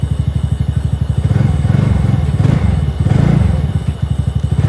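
TVS Ntorq 125 RaceXP scooter engine running at night, a steady low putter that swells as the throttle opens in two revs, close and loud with no talk.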